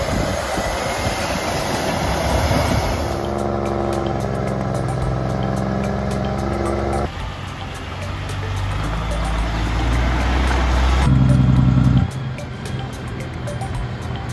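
A truck loaded with wood strains up a narrow, steep road, its engine a loud, continuous low drone. The engine's pitch and load shift in several distinct steps as it creeps along.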